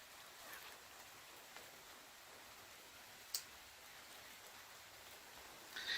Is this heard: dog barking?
no